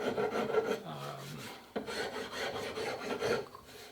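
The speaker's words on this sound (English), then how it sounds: "I'm going to come over to this fine rasp and start pulling out some of those" Steady back-and-forth rasping of a fine rasp filing a wooden shotgun stock, close and continuous, with a brief pause near the middle before the strokes resume.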